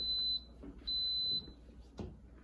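An electric pressure cooker in a home kitchen gives two short, thin electronic beeps, the second a bit longer, with a soft clunk just after and quiet room noise around them.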